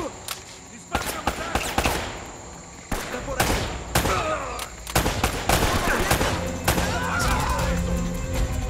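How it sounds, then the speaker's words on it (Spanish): Rapid gunfire in the video game Uncharted: Drake's Fortune, sharp cracks and bursts repeating densely over a loud, busy combat backdrop, with shots clustered in quick volleys throughout. "Parece que siempre te están disparando"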